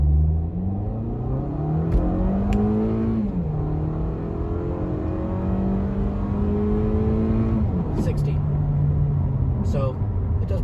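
A Toyota Camry SE with a 4-cylinder engine accelerates hard from 0 to 60 in eco mode, its engine note climbing steadily through gear changes with a loud, continuous drone.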